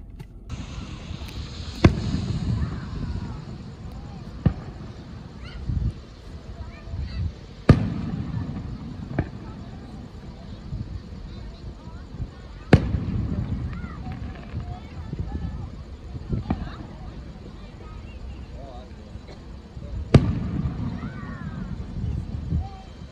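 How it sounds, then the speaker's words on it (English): Distant Fourth of July fireworks thump at irregular intervals, roughly seven sharp bursts across the stretch, over a steady low outdoor rumble with faint background voices. "Fireworks out there in the distance."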